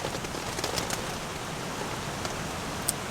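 Rain falling on a tent at a rainy campsite, a steady close hiss of drops with a few sharper taps standing out, and no voices.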